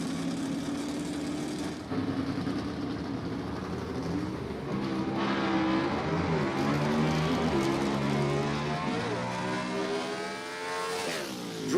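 A gasser drag race car makes a solo by-run at Lassiter Mountain Dragway, its engine roaring loud and close, climbing in pitch through a long wavering acceleration before the note fades.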